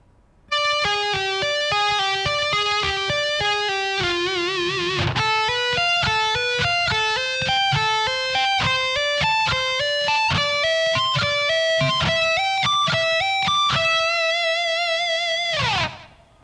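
Distorted electric guitar plays a fast metal lick at a slowed practice tempo, a steady run of sustained, clearly separated notes that ends with a held, vibrato-shaken final note, loud and close with no talking.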